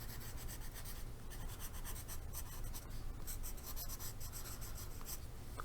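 A pencil scratches steadily across paper, close and quiet, making continuous soft rubbing strokes with small breaks between words and nothing else heard.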